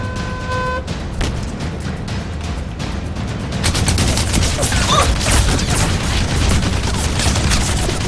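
Gunfire from a dubbed Russian task force action movie: bursts of sharp shots crack out in rapid succession over a rumbling background, growing denser and louder in the second half, with a shouted voice near the start.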